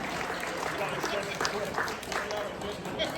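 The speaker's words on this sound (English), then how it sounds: "Nice round of applause for our auctioneer." A crowd at a gala auction claps in steady, loud applause for the auctioneer, a dense patter of many hands continuing throughout with a few cheers mixed in.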